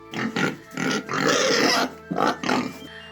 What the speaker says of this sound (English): Look at all the winged pigs.